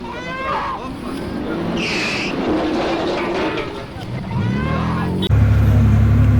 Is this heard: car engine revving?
yes